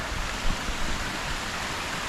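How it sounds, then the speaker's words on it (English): Running water from a waterfall along a hiking trail, a steady broadband rush that stays close and even throughout with no talking over it. "I love the sound of running water as well."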